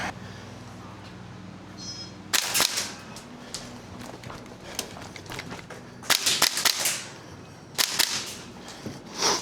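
Salvo Precision MWS MCX gas airsoft rifle firing several sharp gas-blowback shots and short rapid bursts, loud and close, with quiet pauses between strings of fire.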